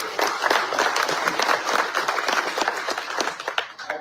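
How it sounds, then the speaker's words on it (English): An audience gives a round of applause for a football program's operations staff, with many hands clapping in a dense, lively burst that stays fairly loud throughout and tapers slightly at the close. "So please give them a round of applause."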